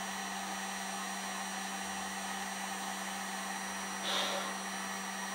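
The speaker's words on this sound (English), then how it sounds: "Switch off your heat gun." A heat gun warms plastic tubing for bending in PC hardline water-cooling work, giving a steady, even blowing hiss with a low fan hum throughout and a brief flare in airflow near the end.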